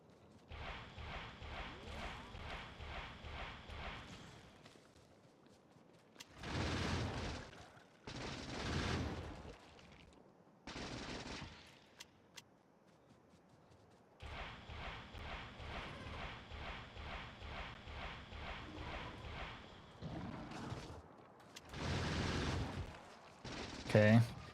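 Automated gun turrets open fire on attacking enemies in the Factorio: Space Age video game, coming in several sustained bursts of rapid gunfire with short gaps between, loud and close, with no talk over them.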